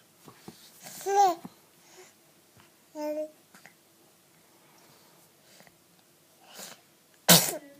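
A small child babbles and makes breathy noises, then lets out one sharp, loud sneeze near the end.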